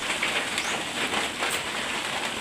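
Heavy rain pouring down hard, a dense, loud and unbroken hiss of falling water with no voices over it.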